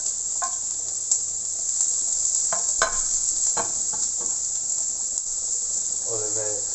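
Onion sautéing in a pan for tuna empanadas, a steady bright hiss of sizzling throughout with a few light clicks of stirring and a brief voice near the end.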